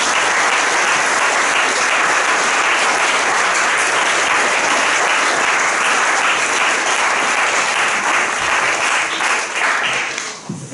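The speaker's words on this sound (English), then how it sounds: "I think the applause has been outstanding, really good, consistent level" A large audience at a school graduation gathering for grades 10 to 12 claps steadily, a dense, loud, even wash of applause that holds for several seconds and then tapers off near the end.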